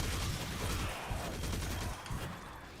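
Hand cannon gunfire in the video game Destiny 2, a dense run of sharp shots and blasts over a loud, busy game mix that continues across the whole stretch with no pause.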